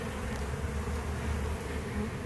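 Honeybees hum around two hives near a trailer in Auburndale, Florida, making a steady, close, continuous droning buzz with no voices.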